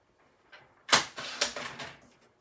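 Very Vanilla cardstock sliced on a paper trimmer, a short burst of close crisp scraping and clicking clatter lasting about a second, with no talking.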